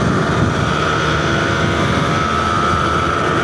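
A Yamaha TZR 250R motorcycle on its first ride gives a continuous loud engine drone with a steady pitch, mixed with wind rush, and no break throughout.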